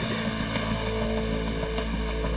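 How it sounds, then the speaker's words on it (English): Coast Guard and police helicopters hover low over a crowded passenger ship, their steady rotor and engine drone loud and continuous throughout with no voices. "Coast Guard and police helicopters hover over the boat"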